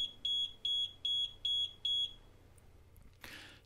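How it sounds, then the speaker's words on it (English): A loud, high electronic buzzer beeps six times in a steady rhythm, then stops, followed by a brief hiss. "the buzzer goes off."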